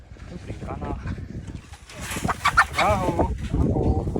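Hens clucking in a backyard flock during a handling session, short uneven clucks and squawks close by, mixed with someone speaking calmly throughout.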